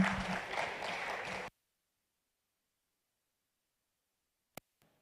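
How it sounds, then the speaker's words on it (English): An audience at a dialogue festival claps for a speaker in a short burst of applause that stops abruptly, followed by near silence and a single faint click. "A round of applause for Wakili."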